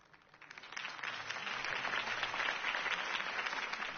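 Crowd applause in the video game Batman: The Telltale Series swells from a faint start into steady, sustained clapping, slightly muffled and distant-sounding, with no voices over it.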